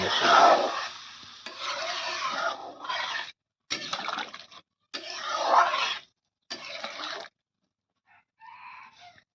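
Yam and fish are stirred in a pan, producing several separate bursts of wet scraping and sloshing with brief pauses between them, up close and with no talk.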